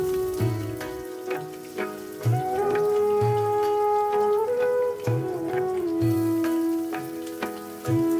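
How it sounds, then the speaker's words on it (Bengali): Potatoes sizzle and crackle in hot oil, a continuous spitting fry heard under a steady tonal hum with occasional soft knocks. "আলুগুলো বেশ ভালোভাবে ভেজে নিতে হবে"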